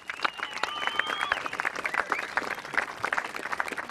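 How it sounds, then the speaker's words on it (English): A crowd at a bass fishing tournament weigh-in at Monduran Dam, Queensland, gives a winning angler a sustained round of applause, dense and steady clapping with cheering and a whistle rising above it. "Give him a big round of applause."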